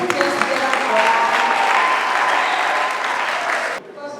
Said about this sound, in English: So with joy in our hearts and clapping of our hands, we want to recognize mommy Aderoju